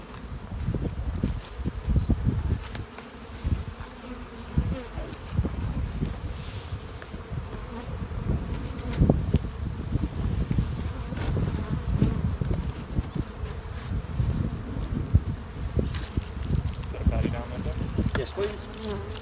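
Honey bees buzz continuously and loudly around an opened hive during a spring brood-chamber inspection, a dense droning swarm close by with occasional rustles and knocks of handling.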